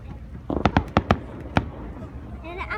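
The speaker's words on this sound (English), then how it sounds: "Oh, I like fireworks." Fireworks bursting at a Canada Day celebration in Steveston, Richmond: a quick run of five or six sharp, near bangs in close succession, then one more loud crack, with voices chattering around them.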